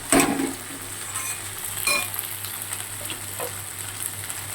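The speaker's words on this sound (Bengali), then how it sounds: "একটু ভাজা ভাজা হবে, তারপর পোস্তটা দেবো।" Pan of okra-like vegetable frying in oil before poppy seeds go in, a continuous soft sizzle with several sharper crackles and stirring scrapes near the start and middle, close and moderately loud with no talk.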